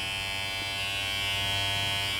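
A Limural electric hair clipper runs with a steady, even motor buzz at low volume, unbroken and alone throughout.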